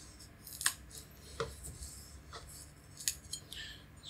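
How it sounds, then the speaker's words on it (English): A knife cuts the stems off beets, making a few sparse, quiet crisp snips and clicks at close range, spaced irregularly in a quiet room. "We're going to have to cut off the stem."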